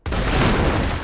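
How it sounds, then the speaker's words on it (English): A grenade explodes in the survival game Dysmantle, a loud, close boom that hits sharply and then lingers as a dense, rumbling roar without fading much over about a second. "Can I throw a grenade over that?"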